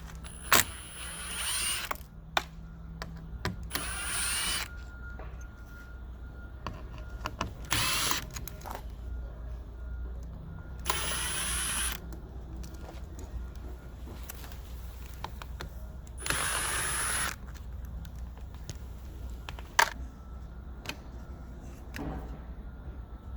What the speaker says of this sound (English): we're going to be using a T15 Torx